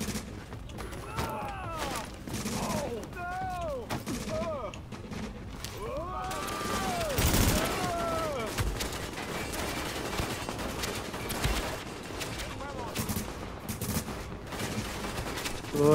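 Gunfire in The Division co-op play, with bursts of rapid automatic shots and single heavy reports scattered throughout, mixed with voices talking and a loud blast near the middle.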